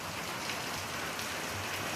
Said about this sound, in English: the rain is getting more torrential.